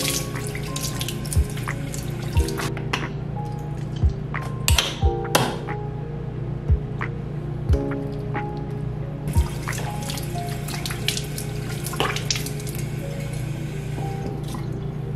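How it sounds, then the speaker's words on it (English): Water runs steadily from a bathroom tap while a face is washed, with hand splashes and small drips over the constant flow, close by and alone. "just put it all over my face and then wash it off"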